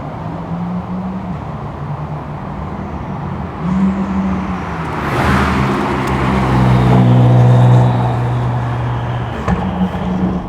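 A Honda NSX hybrid with a mid-mounted twin-turbo V6 and three electric motors drives past, its steady engine hum rising into a louder whirring pull mid-way before easing off, close and continuous.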